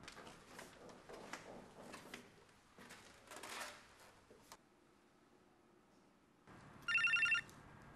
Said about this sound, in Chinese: 是兰芳的电话。